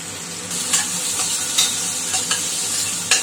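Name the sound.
onions frying in oil and ghee in a pan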